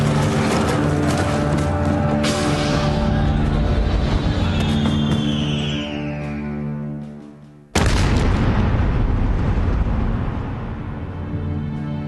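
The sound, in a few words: naval gunfire shell explosion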